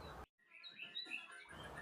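A young white-rumped shama (murai batu) at fledgling age chirps in short, high, thin calls, faint and close, with a brief silent gap near the start.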